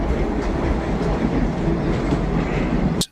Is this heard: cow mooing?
no